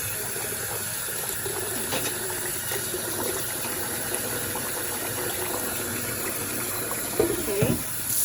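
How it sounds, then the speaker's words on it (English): Cold water runs steadily from a tap over cooked khao poon rice noodles to stop their cooking, a continuous hissing stream with a few faint clinks and a brief clatter near the end. "I'm gonna put cold water in there. You wanna shock the noodles so they stop cooking."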